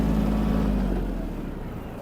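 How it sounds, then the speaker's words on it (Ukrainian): A Japanese Hinomoto NX-201 mini tractor engine runs with a steady low diesel chug close by, the rumble holding evenly then fading slightly; no talking is heard. "Зверніть увагу на роботу двигуна,"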